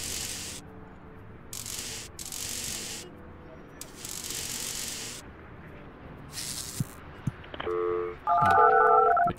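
Telephone dialing and ringing tones from the building-management video game Project Highrise, a short run of beeping tones near the end following bursts of hissy noise, with soft speech in the background.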